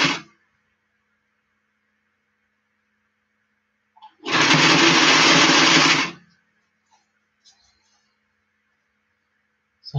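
A sewing machine stitches a flat cap in one burst of about two seconds, near and fairly loud, with quiet before and after.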